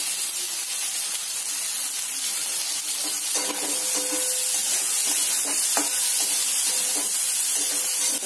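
Capsicum and carrot pieces sauté in hot oil for desi-style pasta, giving a steady broadband hiss with scattered scraping stirs and soft clinks throughout.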